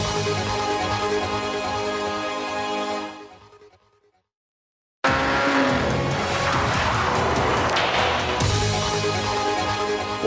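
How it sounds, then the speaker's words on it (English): Two diesel-powered super saloon race cars on a track, engines roaring loud and close with tyre squeal, cutting briefly to silence before the racing noise returns at full volume. "Vicki races two diesel-powered super saloons."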